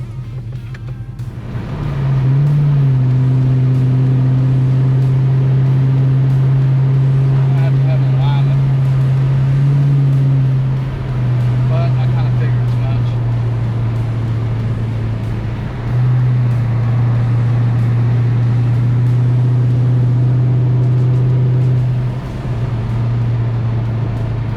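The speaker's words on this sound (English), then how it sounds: "So we're going to take it up the highway and do a little soft cruise," Restored Jaguar with water-methanol injection cruising on a highway, a steady low engine drone inside the cabin with a few shifts in pitch, voices talking now and then over it.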